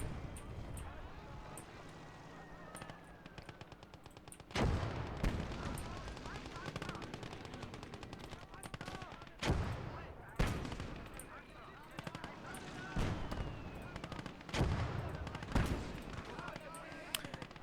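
Mortar fire and rapid gunfire rattle through a battle in the video game Call to Arms: Gates of Hell, with sharp blasts punctuating a steady din of combat.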